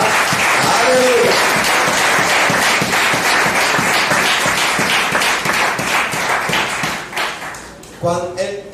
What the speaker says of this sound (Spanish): Si usted lo quiere, aplaudo la gloria de Jehová.